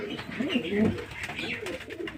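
Chhapga pigeons coo at a home loft, low bubbling calls repeating close by, with faint talk underneath.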